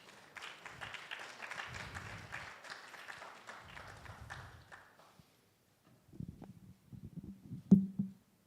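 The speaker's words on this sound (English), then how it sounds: "Let's welcome her with a round of applause" Light applause from a small conference audience welcoming a speaker, fairly quiet, fading out after a few seconds, followed by a pause and then soft thumping footsteps.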